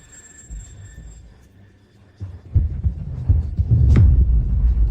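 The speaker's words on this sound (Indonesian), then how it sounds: "itu detak jantung" A heartbeat that seems to come from an island throbs as deep, heavy thumps. It starts quiet and sparse, then grows loud and dense in the second half, with a rumbling undertone and no speech.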